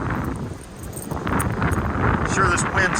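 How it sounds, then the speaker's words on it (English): Strong wind buffets the microphone at a Texas beach on a sunny morning, a constant low roar and rumble that swells louder midway, with faint voices in the background. "this wind's horrible, so you probably can't even hear me"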